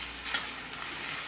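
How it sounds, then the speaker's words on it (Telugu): Tomato pieces drop into a hot steel pot with a little browning on the bottom, giving a steady close sizzle with a short burst of crackling as they land. "వేస్తున్నాను టమాటా ముక్కలు, దీంట్లో వెళ్ళిపోతున్నాయి."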